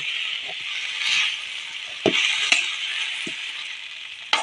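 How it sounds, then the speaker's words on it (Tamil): Siru keerai greens stir-fry in a pan with a continuous bright hiss, broken by a few sharp spatula knocks and scrapes against the pan; no one speaks. "கீரையை நல்லா திருப்பி திருப்பி போட்டு வணக்கிக்கலாங்க."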